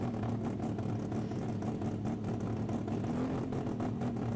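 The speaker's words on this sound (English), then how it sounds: "We hear our all motor cars starting to make their rapping sounds" Naturally aspirated sports compact drag cars idle and rev at a race meeting, giving a raspy, burbling engine drone with wavering pitch and small blips, steady and loud against crowd and track ambience.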